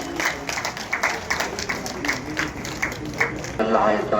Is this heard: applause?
yes